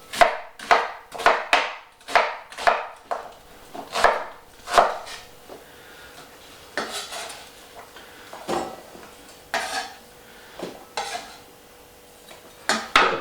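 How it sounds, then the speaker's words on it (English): Knife roughly chopping onions on a chopping board in a home kitchen while making sweetcorn chowder, with a steady run of sharp, close cuts in uneven bursts and no talk. "Right, so roughly chop the onions."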